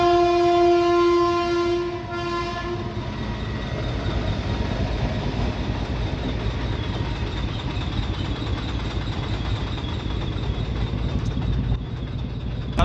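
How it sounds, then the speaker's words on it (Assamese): A train approaches and rumbles past close by near Patiladaha station by a level-crossing gate, opening with a long loud horn blast, then a steady heavy roll of wheels and cars continuing to the end. "ইফালে গেট পৰিছে ট্ৰেইন আহি আছে"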